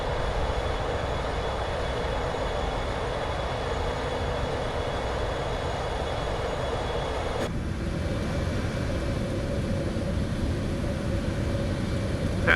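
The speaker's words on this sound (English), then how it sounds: "Listen to that engine roar, folks" Steady airliner engine roar during a climb in Microsoft Flight Simulator, loud and continuous from start to finish with a broad rumbling body, shifting in tone partway through.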